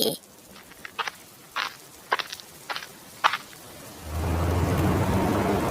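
Rain in a cartoon scene on a muddy village road, arriving as a steady, fairly loud downpour hiss in the last two seconds after a series of separate footstep-like knocks; no clear thunder.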